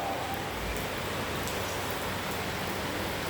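Steady rain pouring in Ghana, a dense, even hiss of drops on surfaces that continues without a break, close and fairly loud, with no talking.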